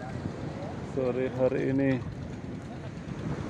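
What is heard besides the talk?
strong wind and big waves at sea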